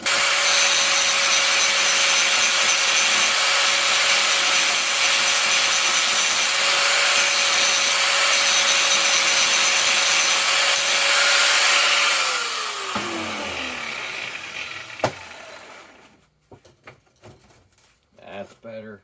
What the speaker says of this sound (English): we're going to have to grind this one down as well